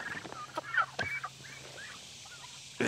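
Several turkeys calling and clucking in short bursts at close range while going after mealworms, with intermittent squawks over a quiet background.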